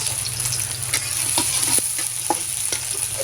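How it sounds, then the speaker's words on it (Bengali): Cumin seeds, onion and chili fry in hot oil in a pan, a steady close sizzle with a few sharp scrapes of a spatula stirring through it, no voices. "একটু হালকা ব্রাউন করে ভেজে নিই"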